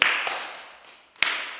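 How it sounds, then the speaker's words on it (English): A single sharp hand clap rings out alone at the start, followed by a second similar clap about a second later, both close and crisp with a short decay in a quiet room. "Can someone clap?"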